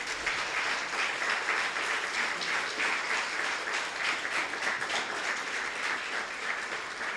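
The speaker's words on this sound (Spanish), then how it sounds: "Denle un aplauso al Señor" Church congregation applauding together, a dense sustained wash of clapping at moderate distance that continues evenly for several seconds without speech.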